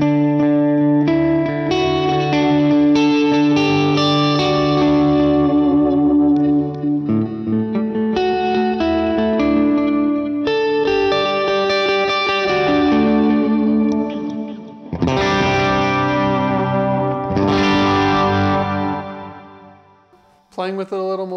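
Electric guitar played through a UAFX Ruby amp pedal set near the edge of breakup, with reverb and delay added; sustained strummed chords and picked phrases ring continuously and loud, with trailing echoes, ending in a brief break.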